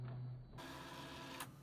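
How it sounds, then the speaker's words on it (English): Inkjet printer running a nozzle check pattern after unclogging, a brief steady mechanical whir at the start, then a softer hum with a short carriage swipe near the end, close and alone. "the next stage is now to print a nozzle check and check the print pattern"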